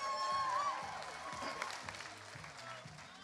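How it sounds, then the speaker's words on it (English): Audience applause at a costume contest runway during a fan convention, fairly faint and fading, mixed with crowd noise and some talk. "Round of applause again"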